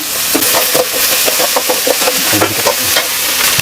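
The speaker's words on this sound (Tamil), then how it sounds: "வெங்காயம் கருவேப்பிலை இதை வந்து ரொம்ப நேரம் வதக்கணும்னு இல்லை ஃப்ரெண்ட்ஸ் சும்மா கொஞ்சம் நேரம் வதக்கிட்டு" Onions and curry leaves sauté in a hot pan with green and dried chillies and ginger, giving a steady close sizzle broken by repeated scraping stir strokes across the metal.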